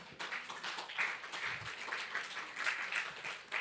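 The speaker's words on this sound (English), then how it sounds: "Can we please give a round of applause for her?" An audience applauds at a storytelling event, steady clapping heard quietly and at a distance throughout, with no voices over it.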